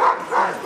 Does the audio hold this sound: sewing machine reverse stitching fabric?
no